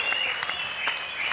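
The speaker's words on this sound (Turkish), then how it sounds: "Alkışlar, alkışlar." Steady, dense applause from a TV talent show audience fills the whole moment, continuous clapping without pause.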